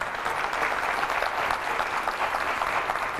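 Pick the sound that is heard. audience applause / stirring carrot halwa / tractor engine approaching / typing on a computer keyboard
audience applause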